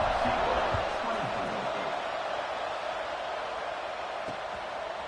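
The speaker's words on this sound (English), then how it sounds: "this crowd is buzzing after that last score" Stadium crowd noise from the video game College Football 26, a dense, steady roar of many voices buzzing after a score, continuous and fairly loud throughout with faint cheering peaks.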